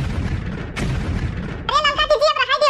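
One gun is fired, giving a short, heavy boom over a low rumbling background, and a voice starts speaking soon after the shot.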